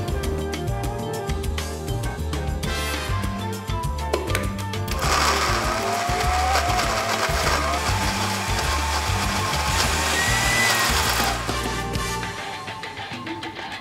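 An electric blender grinding chili, toasted candlenut, garlic, shallot, turmeric and ginger into spice paste, a loud continuous whirring motor that shifts pitch and grows harsher midway before easing off.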